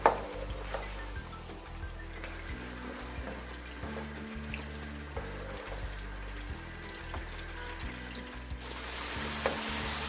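Chicken sautés in a pan as the base for a Punjabi chicken gravy, a low, steady sizzle that stays faint beneath a repeating background music bed.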